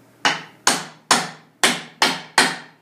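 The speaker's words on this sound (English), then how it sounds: "so I'm going to use the ball peen hammer." A ball peen hammer pounds metal six times in a steady rhythm, each blow a sharp, loud, close strike with a short ringing decay.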